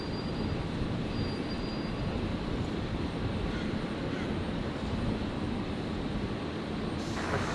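An Alliance Fokker 100 jet taxiing at Brisbane airport toward runway 01 left, a steady broadband engine roar that holds constant throughout, moderately distant, with no speech over it.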